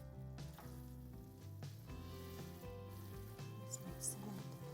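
Fusilli pasta and tuna sauce sizzle faintly in a pan while being stirred, a low steady fry with soft scraping, under a quiet background hum.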